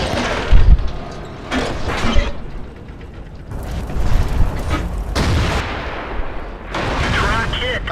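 Tank cannon shots boom in World of Tanks as a T-20 fights nearby, with heavy blasts, clanking track and turret mechanisms and creaking metal across the battle.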